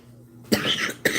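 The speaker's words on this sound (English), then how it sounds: "So now I'm coughing and choking." Two sharp coughs from a person irritated by dust stirred up during indoor cleaning, close and loud, spaced about half a second apart after a quiet start.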